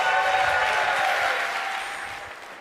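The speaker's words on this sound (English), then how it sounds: "round of applause" A crowd at a live gaming event applauds for about three seconds, a steady dense clapping that slowly fades.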